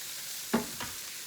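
Mustard greens and garlic stirred in a pot give a soft scrape and two quick clanks over a faint steady sizzle, close and brief.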